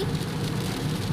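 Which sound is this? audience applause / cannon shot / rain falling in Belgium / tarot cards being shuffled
rain falling in Belgium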